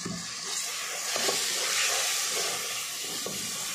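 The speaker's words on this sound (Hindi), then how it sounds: "जब इस तरह से आपका मसाला अच्छी तरह से फ्राई हो जाए" An onion-tomato masala for chicken fries in oil in a pan, giving a continuous soft hiss and sizzle with occasional light stirring scrapes, steady and fairly even throughout, with no talking.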